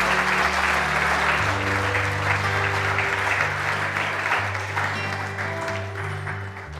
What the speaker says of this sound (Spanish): Esos aplausos son para Dios y su palabra.